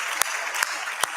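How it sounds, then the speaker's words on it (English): Applause from an event audience for a marketing team, a steady dense clatter of clapping with a few sharper claps standing out, short and fairly loud. "Can we just give Kass and her team an incredible round of applause?"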